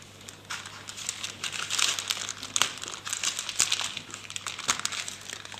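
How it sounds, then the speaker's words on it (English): Thread of a tailor's tack draws through a paper sewing pattern, giving close crinkling and papery rustles with a few sharper crackles across several seconds, no voices. "carefully pull the tailor's tack through the paper pattern"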